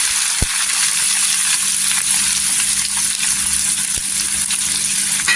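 Chopped onions frying in hot oil with curry leaves for a Maharashtrian dry fish dish, a loud, steady, close sizzle with a couple of faint stirring knocks and no speech.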